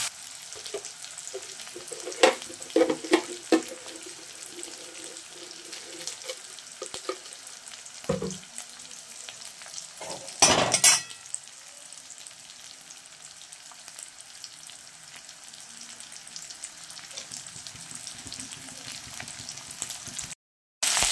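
Onion, garlic and ginger paste frying in a pan with bay leaf, a steady close sizzle throughout with occasional louder crackles and stirring scrapes, no talking.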